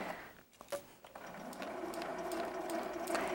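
A sewing machine stitching a quarter-inch seam while piecing a Hex Star quilt block, starting with a few clicks before a steady whirring run of close mechanical stitching.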